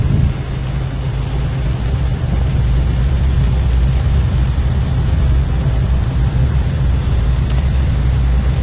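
In Flight Simulator X, an aircraft's engines roar steadily at takeoff power on a short runway, a dense, loud, continuous drone with no voices.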